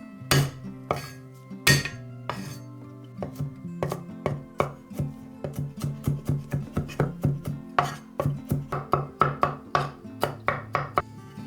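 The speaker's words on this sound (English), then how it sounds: "Chop 3 garlic cloves." Three garlic cloves chopped with a knife on a board, a close series of sharp, crisp knocks that start sparse and quicken into a steady rapid rhythm, with no talk.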